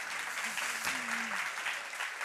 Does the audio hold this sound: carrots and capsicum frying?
no